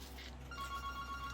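A telephone rings briefly, a short electronic trill that is fairly faint and heard alone over a low background hum.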